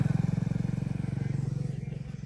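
A motorcycle engine putters steadily with a fast, regular low throb, fairly close and fading slightly toward the end, during a doko race.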